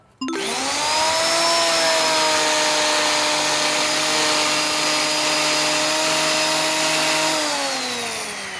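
A steady high-pitched motor whine from a Makita 3501N electric wood grooving machine starts abruptly and runs continuously and loud, then winds down slightly near the end.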